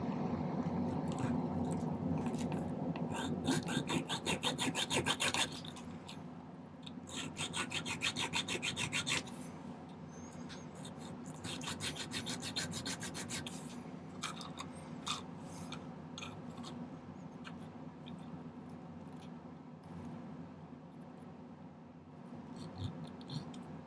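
A metal file rasping over a silver ring in rapid, dense strokes, loud and close at first, then lighter, sparser scraping that fades toward the end, with no talking.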